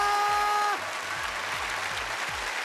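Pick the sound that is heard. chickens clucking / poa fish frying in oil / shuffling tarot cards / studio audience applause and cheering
studio audience applause and cheering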